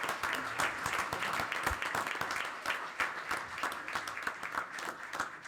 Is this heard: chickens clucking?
no